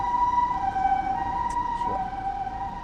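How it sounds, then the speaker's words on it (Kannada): An ambulance siren on a street in Kyoto, Japan sounds steadily at moderate distance, its sustained tone held over a constant wash of traffic and city noise. "ಇರಿ, ಆಂಬುಲೆನ್ಸ್ ಹೋಗ್ತಾ ಇದೆ."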